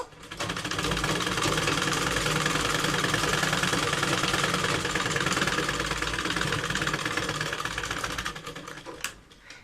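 A sewing machine runs steadily at full speed while double-stitching the side seam of a salwar, a dense mechanical whir with rapid needle chatter that holds for about nine seconds before stopping abruptly near the end.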